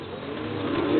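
A tomprang racing pigeon gives a low soft coo that swells slightly over a short moment, heard close and alone.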